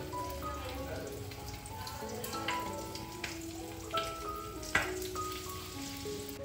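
Fish frying in hot oil in a pan, with a cabbage and egg dish nearby, gives a steady crackling sizzle throughout, with scattered sharper pops and a few soft clinks. No one speaks.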